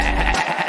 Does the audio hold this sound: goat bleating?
yes